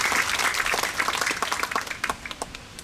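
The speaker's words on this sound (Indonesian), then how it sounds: "Kita berikan tepuk tangan untuk kita semua siang hari ini." Applause from a crowd at a daytime government gathering in Kupang, East Nusa Tenggara, with dense clapping that thins out into scattered individual claps as it fades.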